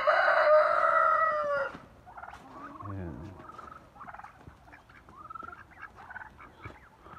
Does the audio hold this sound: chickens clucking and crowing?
yes